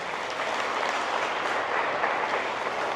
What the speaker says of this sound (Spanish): Dele una ofrenda de aplauso nuevamente a Jesús.